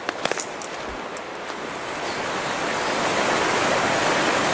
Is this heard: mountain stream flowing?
yes